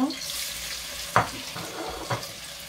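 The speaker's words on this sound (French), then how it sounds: "On frit l'oignon." Onion frying in oil that was heated first gives a steady, gentle sizzle close by. Two sharper clinks or stirring knocks rise above it.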